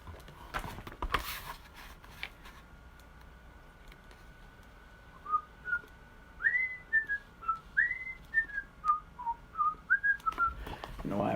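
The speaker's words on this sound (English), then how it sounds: "You know why I'm whistling?" A person whistles a short, lilting tune of rising and falling notes, clear and moderately close, after a quiet stretch with a few faint knocks.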